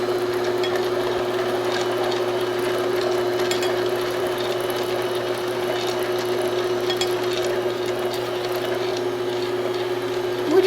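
Electric mixer beating Swedish cinnamon cookie dough in a bowl, a steady continuous whir with a faint hum running unbroken throughout, fairly close and even in loudness.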